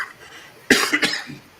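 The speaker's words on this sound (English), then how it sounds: "A month later, I still got a cough" A man coughs in a short, harsh burst of two or three close coughs, loud and near, after a brief quiet moment, with no talk over it.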